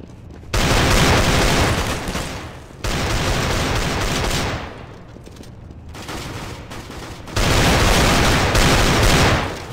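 Counter-Strike: Global Offensive combat: loud, close blasts of gunfire and a grenade come in long, dense bursts, separated by short quieter gaps, with no speech.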